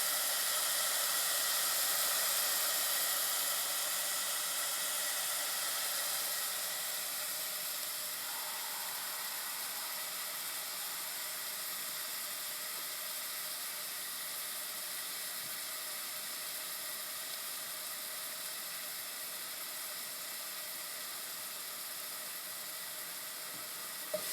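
Onions sautéing in a pan, softening toward translucent: a steady, even sizzling hiss that stays fairly constant throughout, easing slightly in loudness after the first few seconds, with no talking.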